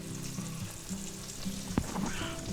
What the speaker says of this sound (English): Now we're going to fry these babies up.